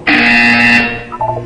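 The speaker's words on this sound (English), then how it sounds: "When you hear the buzzer, look down at the floor." A single loud electronic buzzer from the video game Portal 2 blares steadily for nearly a second, then cuts off, followed by fainter tones.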